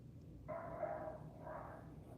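Stray dogs fighting outside a window, heard as two short bursts of muffled growling and barking from some distance, faint against a quiet indoor background.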